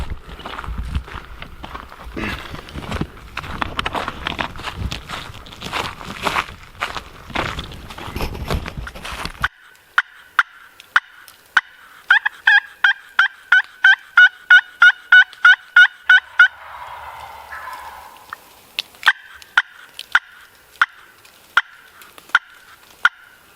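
Wild turkey gobbling on public land in Missouri, with footsteps through brush early on, then a fast run of sharp gobbles and a few more calls later, fairly close and loud in open woods.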